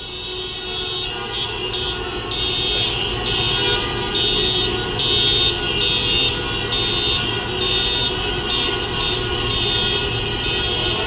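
Car horns at a street car protest in Philadelphia blare in a loud, continuous overlapping din for about eleven seconds, with rhythmic interruptions and traffic noise beneath and no talk.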